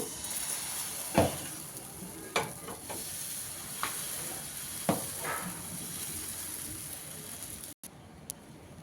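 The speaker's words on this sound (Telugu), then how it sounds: "మరలా ఇంకో దోశ వేస్తున్నాను" Sweet dosa batter made with jaggery sizzles steadily on a hot pan, a constant soft hiss punctuated by a few sharp clicks and scrapes of a ladle, with a brief cut near the end.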